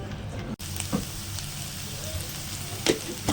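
Onions with a little salt sautéing in oil in a pan for goat brain podimas, a steady close sizzle with a few stirring scrapes and brief louder crackles.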